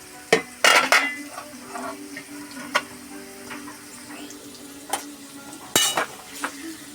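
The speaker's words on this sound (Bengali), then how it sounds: "আর এখানে পটল আলু ভাজা চলছে।" Sliced pointed gourd and potato fry in a pan with a steady low sizzle, broken by several sharp clinks and scrapes of a utensil stirring against the pan.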